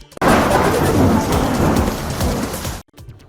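Heavy rain pours in a dense, loud roar with low thunder rumbling beneath during a storm flooding streets in Jodhpur and Tonk, Rajasthan, then cuts off abruptly near the end.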